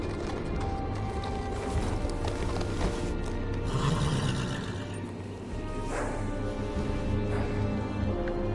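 In a Game of Thrones video game, a horse's hooves clop over rumbling ambient sound with a brief neigh, the steady mid-level scene sound running throughout.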